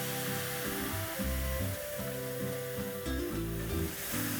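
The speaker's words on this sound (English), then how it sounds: "Let's add in the Palak Ka Saag." Spinach saag hits a pan of golden brown fried garlic, setting off a loud, continuous close sizzle with faint stirring scrapes underneath.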